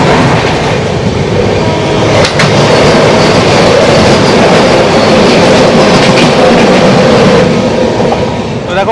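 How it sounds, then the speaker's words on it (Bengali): The 22310 Bhagalpur–Howrah Vande Bharat Express thunders past at close range on an Indian line, a loud continuous roar with rhythmic wheel clatter that holds steady throughout. "এখন ক্রস করবে 22-310 ভাগলপুর হাওড়া বন্দে ভারত এক্সপ্রেস"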